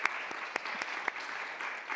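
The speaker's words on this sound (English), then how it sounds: "I think they deserve a huge round of applause." A crowd applauds the speakers at the close of a digital event on creative video communication; steady, moderately loud clapping runs for the whole two seconds with a few sharper individual claps standing out.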